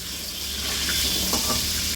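Steady hissing sizzle of potatoes frying in hot oil, with a few soft stirring scrapes near the end.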